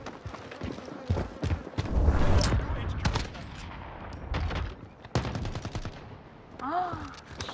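Video game firefight featuring 725 shotguns, with sharp, close blasts and rapid gunfire spread across several seconds, plus heavy explosive-sounding bursts and a brief electronic chirp near the end.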